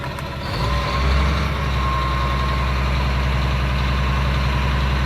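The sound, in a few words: Caterpillar diesel engine idling in 2004 Blue Bird school bus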